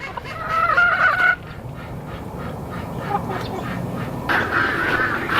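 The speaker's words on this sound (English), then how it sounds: "This is the goats and the ducks and the chickens over here." Ducks quack and chickens cluck together on a small farm during snow in Texas, the bird calls fairly close and repeated, loudest at the start and again near the end over a steady background murmur.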